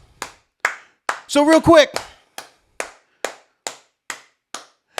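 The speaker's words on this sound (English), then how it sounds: "clap your hands, clap your hands." A crowd claps hands at an event in slow, even, separate claps, with a short spoken phrase over the claps partway through.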